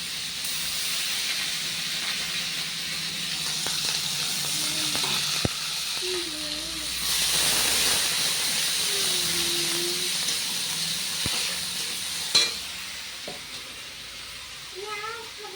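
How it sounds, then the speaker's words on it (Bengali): Ginger-onion paste, cumin powder, green chillies and chilli powder sizzle and hiss steadily in hot oil, a continuous frying crackle with faint clinks and background voices in a home kitchen. "এই তেলের মধ্যে দিয়ে দেবো মশলা মশলা বলতে আদা আর পেঁয়াজ বাটা"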